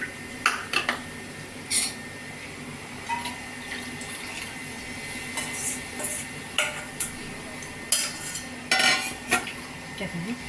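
Scattered metallic scrapes and clinks of a utensil stirring kali in a pot with added water, irregular and close, with faint kitchen background noise.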